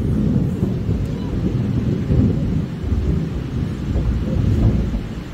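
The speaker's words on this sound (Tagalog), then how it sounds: "And ang lakas ng ulan sa labas." A dense, rumbling roar of heavy rain fills the clip continuously, with deep thunder-like rumble underneath and no clear voices.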